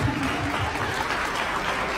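An audience at a gala dinner applauds, with dense, steady clapping from many hands filling the room for two seconds and no pause.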